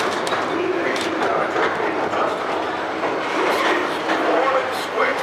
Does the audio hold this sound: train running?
yes